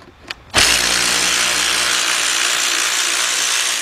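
A ratchet removing a bolt from the 2.7 engine of a 2006 Kia Sportage EX during a head gasket job. It starts with a brief click, then gives a loud, continuous mechanical whir that runs to the end.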